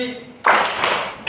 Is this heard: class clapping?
yes